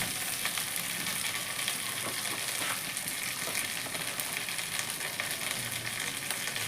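Onion, potato and ginger frying in a pan for an egg omelette curry, giving a continuous bright sizzle and crackle at moderate loudness with no talking.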